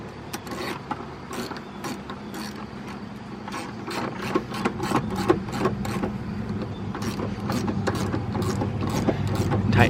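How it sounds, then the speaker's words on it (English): A ratchet tightens a nut on a Toyota Camry strut assembly during a strut replacement. It gives off a steady run of sharp clicks up close with no talking, and the clicking grows slightly louder toward the end. "put it in its place, then attach the ratchet"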